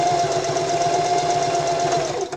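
A sewing machine runs steadily as it stitches a quarter-inch seam on a wrist pincushion, a fast, even mechanical whir with a rhythmic stitching pulse, close and continuous before stopping abruptly.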